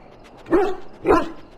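A dog in the video game Dragon Age Origins gives two short, close barks about half a second apart, moderately loud with no other sound around them.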